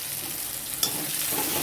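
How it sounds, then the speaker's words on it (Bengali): Chopped tomato is stirred into spice masala of chili powder, cumin powder and salt as it fries in a pan: a steady close sizzle broken by one sharp scrape of the spoon partway through. "টমেটো মশলার সাথে ভালো করে মিশিয়ে নেব।"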